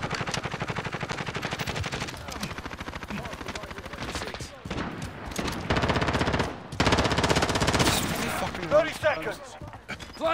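Rapid automatic gunfire in Call of Duty Modern Warfare, sustained bursts of rattling shots that keep going almost without a break, with a voice talking over them.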